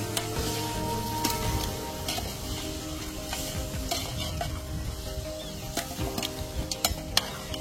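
Mutton sizzles and fries in a pan outdoors while being stirred, with a steady crackling hiss broken by scraping strokes and occasional sharp metallic clinks from the utensil.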